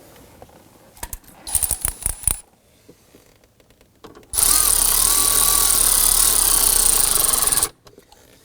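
A power driver snugs screws into a 2001-2009 Volvo S60 dashboard during a blower motor module replacement. A few light clicks and rattles are followed by one sustained, loud high-pitched whirring run of about three seconds, close by.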